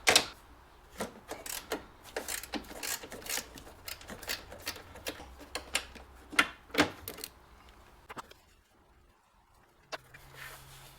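A hand tool clicks in quick irregular bursts while loosening the last strut bolt on a 2020 Toyota Corolla LE 1.8L, close and sharp, then quietens near the end.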